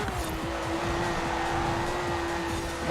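A Ferrari Testarossa in Forza Horizon 4 drives with a steady engine drone and a sustained tonal whine, while tire squeal and skidding noise stay loud and close throughout.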